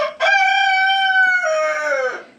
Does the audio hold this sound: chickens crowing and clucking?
yes